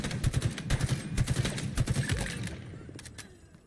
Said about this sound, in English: I cannot believe how powerful the assault rifle is.